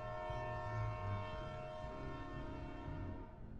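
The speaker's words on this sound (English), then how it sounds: "The episode ends with the haunting horn of a train." A train horn in a Tom and Jerry cartoon, sounding as a sustained, steady multi-tone blast with a rumbling train underneath, continuous and loud, easing off slightly at the end.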